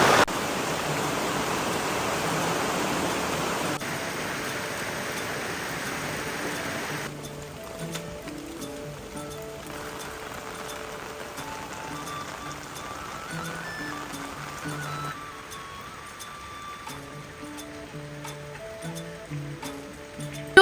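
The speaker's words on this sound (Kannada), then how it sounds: "ಹಾಗೆ ಜೋರು ಮಳೆ ಬಂತು" A steady, dense hiss of heavy rain pouring down in a forest, constant and enveloping, with no voices.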